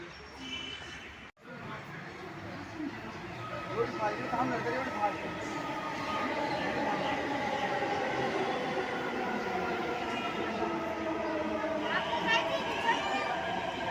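A Delhi Metro train rumbles and screeches past with a sustained metallic roar, while people chatter nearby throughout.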